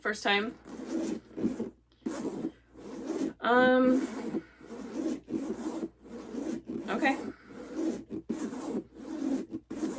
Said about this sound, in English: So my zipper is moving smoothly back and forth.